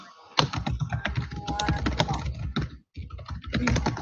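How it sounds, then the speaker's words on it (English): Rapid typing on a computer keyboard during a conference call, steady close clacking of many keystrokes with one brief pause before the tapping resumes. "Typing going on."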